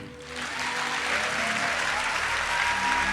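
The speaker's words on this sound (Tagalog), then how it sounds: "Sino po ang may nakaraang pagpapala? Pumalakpak." A church congregation breaks into dense, continuous clapping during a sermon, swelling slightly at the start and then holding as a full, even wash of applause without any voices on top.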